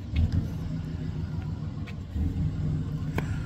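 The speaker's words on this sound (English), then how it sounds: "There has to be a FedEx truck coming over here making a noise." A delivery truck rumbles past at a steady low pitch, its engine drone filling the background with no voices present.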